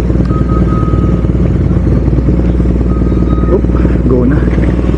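BMW R nineT big bike on the move, its engine giving a steady low drone with wind rush throughout, while a rider talks over it.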